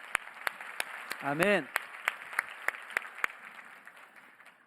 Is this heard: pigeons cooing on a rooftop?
no